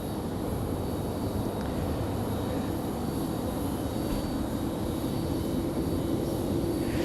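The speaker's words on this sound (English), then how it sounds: "first departure, Air Canada" An Air Canada airliner departing from Raleigh-Durham International produces a steady, moderately loud jet engine roar with a rising tone toward the end, heard alone without talk.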